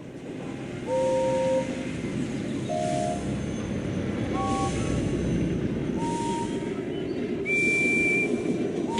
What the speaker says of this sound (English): Listen to the whistles and pick the one like Henry's.